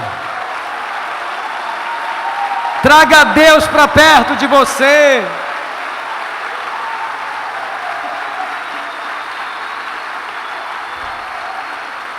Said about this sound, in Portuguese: Fique em pé e aplauda o Senhor, aplauda com alegria.